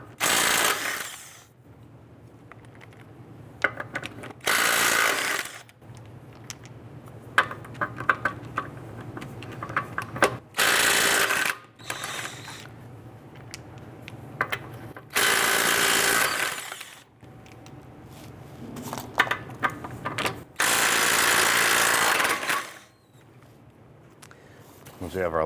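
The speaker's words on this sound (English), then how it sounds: "I'm going to loosen and remove our lug nuts." On a 2005-2010 Chrysler 300, lug nuts are loosened with a 21mm socket, giving several loud bursts of an impact or ratcheting tool, spaced by pauses, with a person talking between them.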